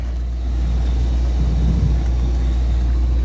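A Bentley Eight pulls away in drive as a deep, steady engine rumble fills the car cabin, loud and constant with road noise and no talking.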